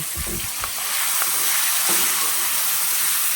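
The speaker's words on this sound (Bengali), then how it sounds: "এখন আমি এই ক্যাপসিকাম টমেটো এইগুলো এখন তেলের উপরে দিয়ে দিচ্ছি। এটাকে ভালো করে ভেজে নিতে হবে।" Capsicum and tomato dropped into hot oil, a loud close hiss that swells after a few low thumps of the vegetables landing, then settles into a steady sizzle.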